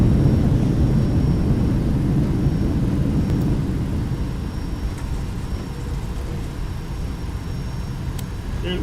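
A UPS Boeing 757 freighter rolls out after landing in X-Plane 11, with a steady low engine and rolling rumble that eases slightly as it slows, no voices over it.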